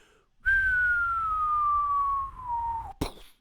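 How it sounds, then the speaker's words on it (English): A slide whistle glides smoothly downward in one long descending tone, followed by a sharp brief hit at the end. "then you have a slide whistle going"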